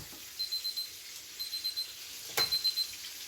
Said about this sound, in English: let's shut our timer off so it can stop beeping at us